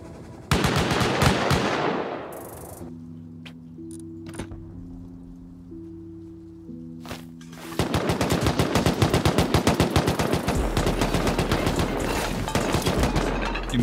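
Rapid machine-gun bursts and gunfire in a video game raid, aimed at a player's turret; dense loud volleys open the clip, a quieter humming stretch follows, then sustained heavy firing returns to the end.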